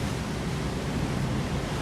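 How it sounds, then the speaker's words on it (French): A steady, loud roar of wind buffets the microphone, broadband and unbroken, with no voices or other distinct sounds. "le vent est vraiment fort"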